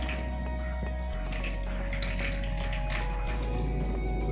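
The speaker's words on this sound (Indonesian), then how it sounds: "kita alirkan air dari posisi yang lebih tinggi ke posisi yang paling rendah" Water poured from a higher container down to a lower one in a simple classroom science experiment, giving a steady, continuous trickling and splashing flow that runs close by for the full few seconds with no talk.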